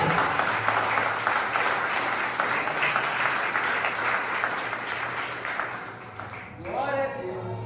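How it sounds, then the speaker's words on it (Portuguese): Congregation applauding during a church service: steady, dense clapping fills the room for about six seconds, then fades as a voice begins speaking. "Aplauda a bendição."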